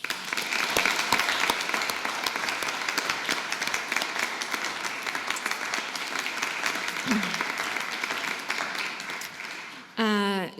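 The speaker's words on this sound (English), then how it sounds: "So I do think we should give them a round of applause." Sustained audience applause fills a ceremony hall for about ten seconds, dense and even before tapering off, followed by a brief burst of a speaker's amplified voice at the end.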